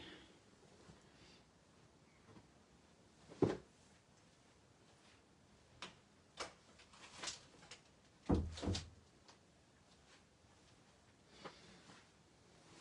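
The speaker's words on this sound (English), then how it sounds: "close my door so I can hear someone coming." A door in a quiet room is shut with a soft thump, followed by another bump and a handful of light knocks and clicks at irregular intervals, all faint against near silence.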